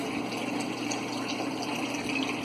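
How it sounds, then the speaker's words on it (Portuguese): An aquarium sump driven by a washing machine pump forces water out under pressure, producing a continuous close splashing and gurgling flow at moderate level, alone throughout. "olha a pressão que a água tá saindo aqui"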